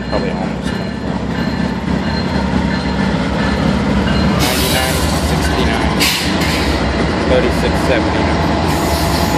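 A Norfolk Southern 12R freight train passes in Charlottesville, Virginia, its steady loud rumble and rolling wagon noise filling the clip with brief wheel squeal, while a person speaks numbers over it.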